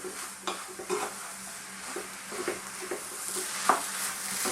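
Lentils and spices for a carrot and lentil curry sizzle softly in a pan while a utensil stirs and scrapes through them in repeated strokes, close and steady, with no voices.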